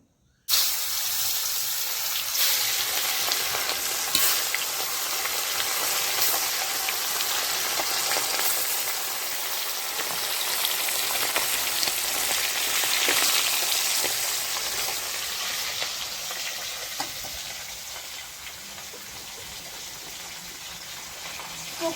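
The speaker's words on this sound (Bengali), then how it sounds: "গরম হয়ে গেছে এখন দিয়ে দেবো সর্ষের তেল মাছগুলো ভাজে নিব" Fish frying in hot mustard oil in a pan, a loud steady sizzle and hiss that runs continuously and close for the whole stretch, with no talk over it.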